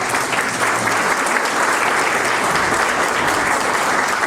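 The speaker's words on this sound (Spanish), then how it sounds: "Nuevamente un fuerte aplauso para ellos, por favor." Loud, steady applause from an audience at a book presentation for a novel, a dense unbroken wash of clapping that holds evenly throughout with no voices over it.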